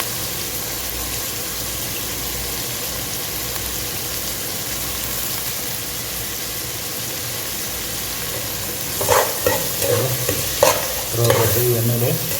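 Curry leaves fry in hot oil with a constant crackling sizzle, and clattering stirs and scrapes come in near the end.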